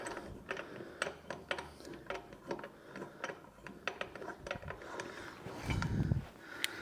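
Socket wrench tightening bolts during rear brake work on a Vauxhall Mokka, a series of quick ratcheting clicks in short bursts, close by, with a thud near the end.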